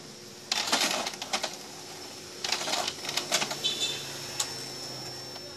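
An Epson L210 inkjet printer with a paper jam whirs and clatters in two bursts of rapid ticking and grinding, with quiet pauses between them.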